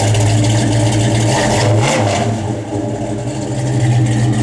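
A 1970 Chevrolet Chevelle SS engine runs loud and close, its deep rumble swelling in a rev and settling back to a throaty idle, with no voices over it.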